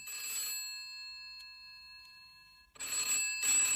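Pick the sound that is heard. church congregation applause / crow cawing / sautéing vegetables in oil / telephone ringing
telephone ringing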